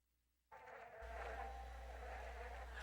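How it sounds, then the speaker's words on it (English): Swarm of insects buzzing in the Faron Grasslands of Zelda: Breath of the Wild. The buzz starts abruptly after a short silence, with a low hum joining a moment later, then holds steady and close. "I don't think I've ever heard the sound of like flies and bees."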